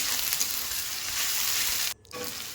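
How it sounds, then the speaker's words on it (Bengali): Ginger garlic paste fries with chopped onions in hot oil, a loud, dense, close sizzle that breaks off for a moment and then resumes. "আদা রসুনটা আমার ভালো করে ভাজা হয়ে গেছে"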